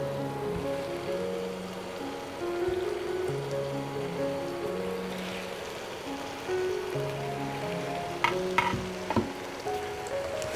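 Fried chicken pieces going into simmering masala for a Bangladeshi chicken roast, a soft steady sizzle under background music, with a few sharp clinks and scrapes of stirring toward the end.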